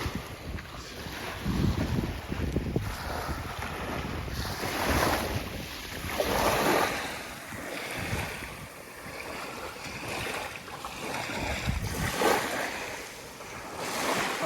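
Waves wash steadily against the rocky shore of Narragansett Bay, a continuous surging roar mixed with heavy wind buffeting the microphone, with no voices.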